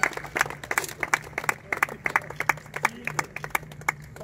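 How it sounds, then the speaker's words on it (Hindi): Spectators at a volleyball tournament in Barcelona clap in a sparse, uneven rhythm of distinct handclaps over a low steady hum, with some voices underneath. "अगर तबीयत खुश है दिल खोल के तालियां मार करो"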